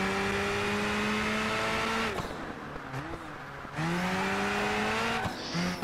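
Tires squeal through a sustained drift in Project Gotham Racing 4, a loud steady engine tone sliding in pitch under the screech, broken by two brief dips before the skid resumes.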